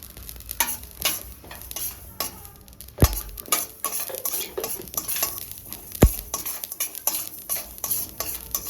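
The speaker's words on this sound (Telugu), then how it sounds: "బాగా ఫ్రై చేసుకోవాలి మంచిగా" Cumin seeds with mustard seeds fry and sizzle in a pan for gongura pickle, a steady close crackle broken by repeated stirring scrapes and two sharp clinks of a spoon against the metal.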